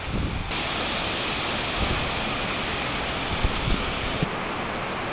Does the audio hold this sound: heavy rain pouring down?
yes